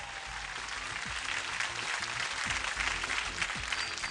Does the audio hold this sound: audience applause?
yes